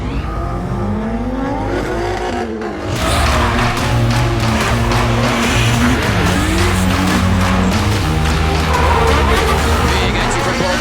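Drift cars slide side by side in a drift competition, tires screeching continuously over loud revving engines, with a brief lull before the pair surges in close and loud.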